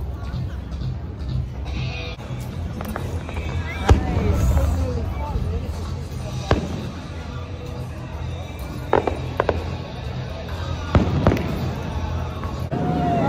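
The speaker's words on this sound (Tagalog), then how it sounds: "Pasilip ng fireworks." Fireworks bursting at Canada's Wonderland on Canada Day: sharp, irregular pops and bangs ring out over a steady crowd murmur, with people talking throughout.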